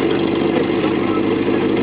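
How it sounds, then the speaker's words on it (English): An old car's engine idles steadily at a small-town car show in Winthrop, Washington, a continuous low rumble that carries close and loud for the whole moment. "Listen to that engine."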